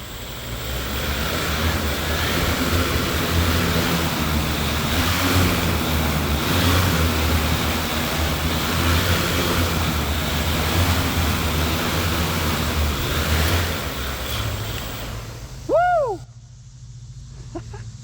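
Propellers on a homemade eVTOL flying car roar under throttle, a loud sustained whir lasting many seconds before spinning down, followed by a short rising whine.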